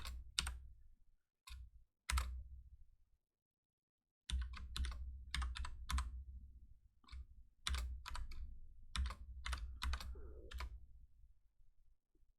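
Typing on a computer keyboard at a desk, close and quiet, comes in bursts of sharp clicking keystrokes separated by short pauses and a few silent gaps, with no voices.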